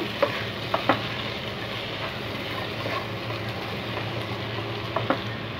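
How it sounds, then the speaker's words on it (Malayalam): Ginger fries in a pan for an egg curry, giving a steady close sizzle with a few sharp taps and scrapes of a spoon stirring it. "ഇഞ്ചി ചേർത്തു ഇതൊന്ന് ഇളക്കി കൊടുക്കാം"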